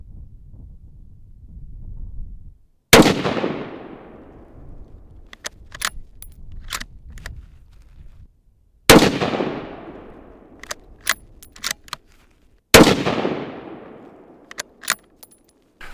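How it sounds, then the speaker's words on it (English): Three loud, sharp rifle shots from a Remington Model 7 in .243 being zeroed at 25 yards, spaced several seconds apart, each ringing out with a fading echo over light wind and scattered small clicks and handling noises. "it was time to zero this rifle in and get it back in action"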